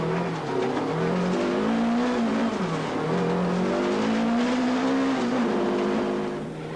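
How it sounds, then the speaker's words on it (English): A Mitsubishi rally car at Cape Rally 2001 worked hard with the handbrake through a tight farmyard, its engine revving up and down in loud, close surges with a brief tire squeal, alone without talk. "We join them as they negotiate the very tight farmyard, Yanni making extensive use of the handbrake"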